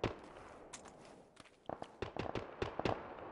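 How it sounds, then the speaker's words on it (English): Gunfire in the video game PUBG: a ragged string of sharp shots at middling distance, sparse at first and then coming in quicker irregular bursts over a low background. "Shooting coming from the southeast."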